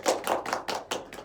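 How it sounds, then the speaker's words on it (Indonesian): A small classroom group claps for classmates in a rhythmic burst of about six evenly spaced claps, close and moderately loud, with no talking over it. "Tepuk tangan buat kelompok"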